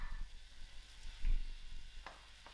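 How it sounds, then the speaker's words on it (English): Tomatoes with cauliflower and butter beans cooking in a pan, a quiet steady sizzle with a few soft bumps and scrapes from stirring. "I am going to add in my tomatoes and allow these tomatoes to cook out."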